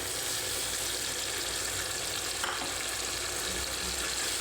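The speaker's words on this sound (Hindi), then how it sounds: "अब हम टमाटर का पेस्ट भी डाल देंगे।" Tomato paste cooking with chicken liver in a gravy pan, giving a dense, continuous loud sizzle that holds steady throughout, close and unbroken, without talk.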